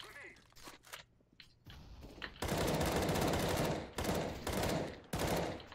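Automatic gunfire in the video game CS GO rattles in loud sustained bursts separated by short pauses, after quieter clicks and movement sounds at the start.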